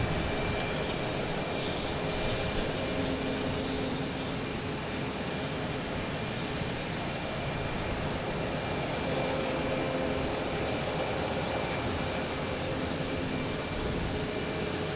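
An Aer Lingus Airbus A330 airliner approaches Boston Logan Airport, heard as a steady, loud broadband engine roar with a faint high whine that holds constant throughout, no voices present.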